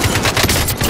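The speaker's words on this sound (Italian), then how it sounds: "Gli stanno sparando." Gunfire in Call of Duty: Modern Warfare Warzone: loud, close automatic bursts cracking in quick succession, dense and unbroken through a short moment, with no talking.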